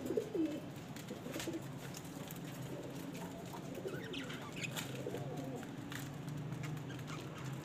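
Pet pigeons and breeding parrots kept together give soft, repeated coos and small chirps, faint and steady over a low background hum.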